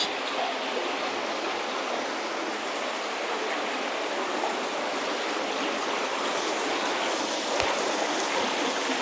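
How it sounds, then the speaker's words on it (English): Water flowing steadily inside a cave, a dense, constant rushing wash that holds at an even level throughout, heard alone with no voices. "So we are getting into where the water flows."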